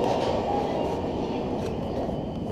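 A train rumbles past in a station, a steady, loud, low roar that fills the whole stretch.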